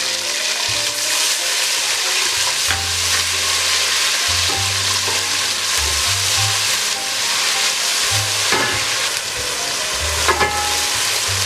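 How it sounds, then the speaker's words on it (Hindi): Garlic-ginger paste fries in a hot pan with a loud, steady sizzle, broken by periodic scraping and stirring strokes, close and continuous with no talk. "और अब इसके अंदर सबसे पहले मैं डाल दूंगी लहसुन अदरक का पेस्ट।"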